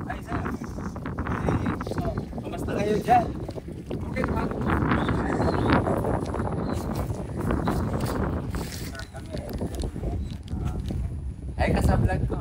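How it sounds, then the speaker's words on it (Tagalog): Strong typhoon wind buffets the microphone with a continuous rough rumble while people talk over it. "medyo malakas po yung hangin"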